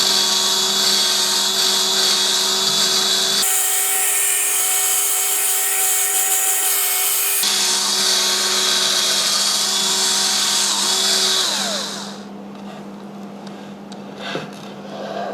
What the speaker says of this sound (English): I'm just going to use that to drill and then make the hole a little bigger.